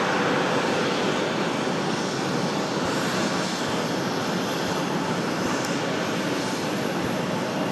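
Aircraft engines roar at Raleigh-Durham International Airport at night, a loud, broad, steady rumble and whine that fills the air without a break and with no talking over it.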